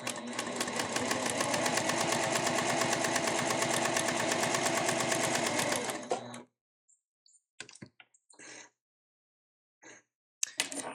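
An Elna ef1 semi-industrial sewing machine stitching through two layers of marine vinyl, a fast steady mechanical whirr and needle clatter for about six seconds, then silence broken by a few faint handling clicks and thumps.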